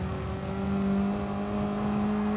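Race car engine in the GT Sport video game shifting down through the gears in quick succession, a steady loud drone of shifting engine tones filling the short stretch with no talk.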